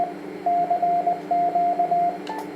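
A CW test transmission on the 40 meter band through a 1200W BLF188 power amplifier with heat pipes, heard as steady keyed tone bursts in short repeated groups over a low hum, with a faint click at the end.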